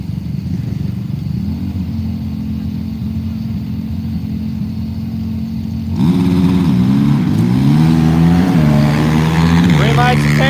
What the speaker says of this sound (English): A couple ATVs coming up here. Got the sport versus utility quad.